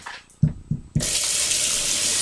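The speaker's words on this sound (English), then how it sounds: "just pour a little bit of water in." Water poured from a tap into banana bread batter: a few short splashy knocks, then a steady, loud rush of running water close by.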